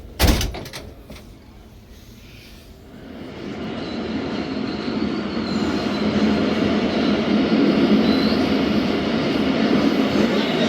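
The Zakariya Express pulls away from a station, first a door clunk and sharp knocks, then a steadily building rumble and rolling hum of the moving train that grows louder and fills the carriage for most of the stretch.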